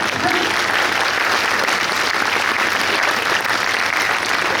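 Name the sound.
audience applause at a New Year's reception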